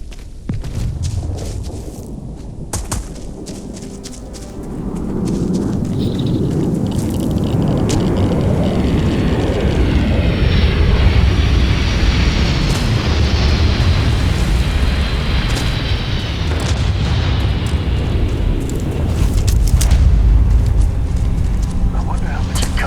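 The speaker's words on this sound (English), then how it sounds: "Captain, landing procedure initiated." A spaceship landing on a planet in the game Starfield, a loud rising rumbling roar with whooshing thrust that swells and holds steady, with a voice speaking over it.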